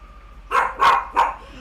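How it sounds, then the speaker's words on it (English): A dog barks outside, three distinct barks in quick succession, clear and moderately loud against a quiet indoor background with no voices over them. "Oh, there's another dog outside."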